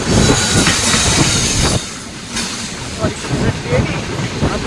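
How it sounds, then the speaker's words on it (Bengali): A train pulling into a station in Andhra Pradesh, loud rumbling wheels with rhythmic clatter over rail joints and occasional hiss, close by, with voices talking over it. "এই যে ট্রেন আসছে"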